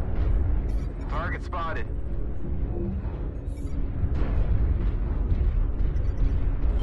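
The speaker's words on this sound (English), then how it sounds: "Artillery strike online" Artillery strike explosions in the video game Mechwarrior Online make deep, continuous rumbling booms under a synthetic cockpit voice announcing targets, with short electronic alert tones.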